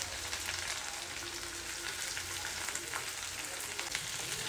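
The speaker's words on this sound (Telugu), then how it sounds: "ఆలుగడ్డలు కొంచెం వేగినాయి" Potatoes fry in a pan with a broad, even hiss and scattered soft pops, close and steady from start to finish.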